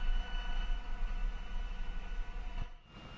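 A Kikka jet aircraft's engine drones steadily during takeoff in the War Thunder video game: a loud, continuous whine with a low rumble that dips and fades near the end.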